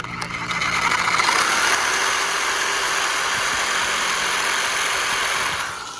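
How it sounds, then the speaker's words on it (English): Powered metal shears cutting sheet metal for a cargo trailer bathroom build, giving a loud continuous mechanical buzzing whir that runs steadily for several seconds before easing off. "So the metal shears cut a much cleaner cut"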